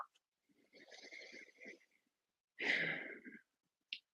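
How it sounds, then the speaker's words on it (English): Slow nasal breathing during gentle chair yoga: a long soft exhale through the nose, a pause, then a louder, fuller breath, ending with a brief sniff. "let's just try some nasal breathing, just breathing through the nose"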